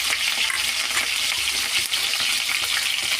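Green chilies frying in a pan for paneer rice, a steady, dense, hissing sizzle close up with faint stirring, continuous throughout.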